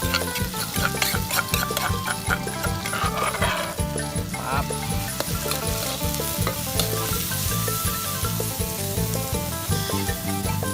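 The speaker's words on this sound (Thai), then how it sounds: "เราไปผัดกันเลย ผัดเลยครับ" Sparrow meat stir-fried with red holy basil and pounded spices sizzles loudly and steadily in a hot pan, with rhythmic scraping and stirring strokes throughout and a voice talking at times.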